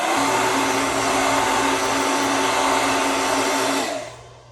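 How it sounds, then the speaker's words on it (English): A handheld blow dryer drying paint on a gel plate, a loud, steady whooshing drone running close and unbroken for about four seconds before it cuts off and fades out, with no voices. "it is nice to have a blow dryer handy to speed that process up"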